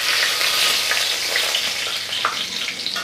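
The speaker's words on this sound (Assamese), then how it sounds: "এইখিনি অকণমান ভাজি লওঁ" Steady bright sizzle of dried chilli, bay leaf, panch phoron and whole cumin frying in hot oil, close and continuous, with a few soft scrapes of stirring.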